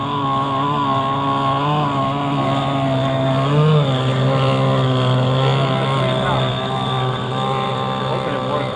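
A small model motorboat engine whines steadily and loudly, its high buzzing pitch wavering slightly as it runs without pause.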